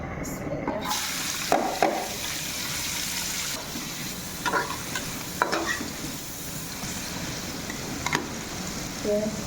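Fried fish being cooked in a pan, with a low steady sizzle and several sharp spoon scrapes and clinks at irregular intervals.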